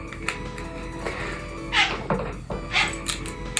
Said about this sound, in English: you can hear a kitty cat there meowing